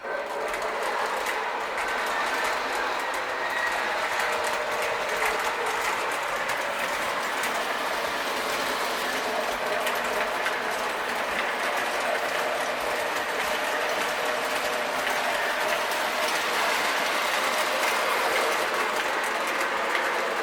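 A Lionel LionChief Plus Union Pacific Hudson model train smokes as it runs steadily on its track, giving a continuous whirring, clattering rattle that stays even and fairly close for the whole stretch.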